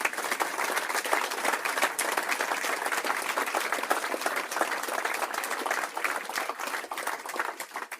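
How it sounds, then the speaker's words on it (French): A room full of people at a political party's New Year gathering applauds warmly, a sustained dense clapping that stays loud and even for several seconds with no talking over it. "je vous demande d'applaudir très chaleureusement"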